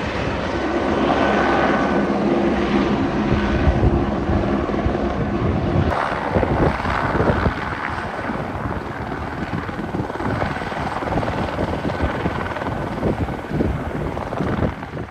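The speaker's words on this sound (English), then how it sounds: "there happened to be a helicopter working between the narrow walls of the canyon." A helicopter working between narrow canyon walls drones loudly and continuously, its rotor thump echoing off the nearby rock, with no voices.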